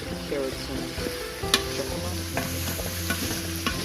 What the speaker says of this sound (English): I'm stirring the vegetables so that they all get a good coating of the oil